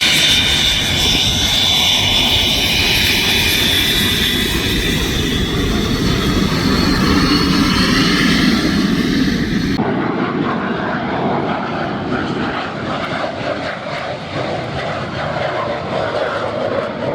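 A de Havilland Vampire jet flies past at an airshow, a loud continuous roar of jet engine that swells and holds, then drops in brightness as the aircraft moves away, with no talk over it.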